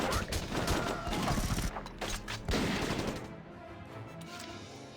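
Heavy gunfire in the video game Valkyria Chronicles Remastered, dense overlapping bursts of rifle and machine-gun fire rattling loudly for several seconds before thinning out near the end.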